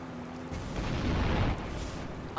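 Heavy turret cannon fire from a military vehicle in Roblox Jailbreak, a dense rumbling boom that swells and holds at moderate loudness before easing off, with no talk over it.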